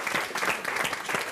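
A brief burst of audience applause at an open-air summer evening concert, a dense wash of clapping heard alone.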